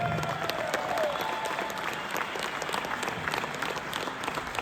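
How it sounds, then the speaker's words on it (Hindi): Audience applause at a live talk, a steady, moderately faint patter of many hands clapping together for a few seconds with little speech. "आई थिंक इसके लिए तो तालियां बनता है।"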